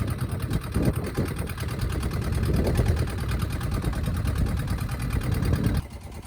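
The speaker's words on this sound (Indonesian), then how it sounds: "Dengan bertenaga mesin, kapal akhirnya melaju mencari spot yang dirasa cocok." A boat's engine drones steadily with a fast mechanical chatter as the vessel heads out over rough, windy seas off East Sumba, Indonesia, with a continuous low rumble that cuts off near the end.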